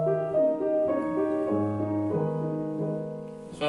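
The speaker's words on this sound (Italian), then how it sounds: "perché è una citazione al Sehnsuchtwalzer di Franz Schubert, che suona così" Piano playing the Sehnsuchtswalzer theme by Franz Schubert, a short lyrical waltz phrase of sustained melody notes over soft chords, close and clear.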